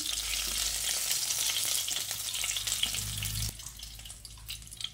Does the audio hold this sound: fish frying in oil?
yes